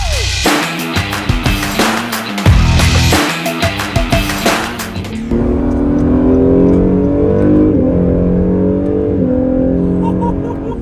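A blue Acura NSX sports car accelerates hard on a test drive, about half throttle: a loud, rising engine roar with a choppy start that settles into a steady, strong drone nearby.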